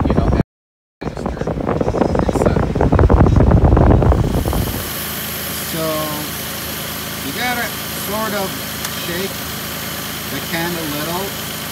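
A 1997 Toyota Land Cruiser engine starts with a loud burst of revving, then settles into a steady idle with faint squeaky chirps over the hum.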